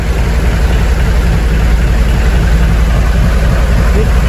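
A fishing boat's diesel engine idles steadily, a loud, dense low rumble with constant vibration and broadband mechanical noise running unbroken throughout.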